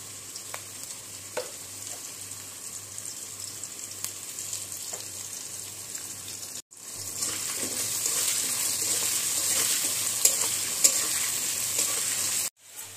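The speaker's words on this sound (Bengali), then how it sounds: "আলুগুলো অল্প একটু নুন, অল্প একটু হলুদ দিয়ে ভালো করে একটু ভেজে নেব।" Potatoes with salt and turmeric fry in hot oil, a continuous close sizzle that briefly cuts out and then returns louder and hissier.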